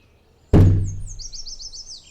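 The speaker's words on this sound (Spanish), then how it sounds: "El golpe fuerte de un ave chocando contra cristal" A single sharp thud rings out against glass, decaying quickly, followed by faint high bird chirps in the background.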